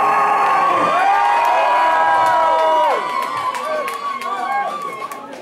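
Loud concert crowd at a Glasgow club show cheering and shouting continuously, whoops and yells filling the room before easing slightly toward the end.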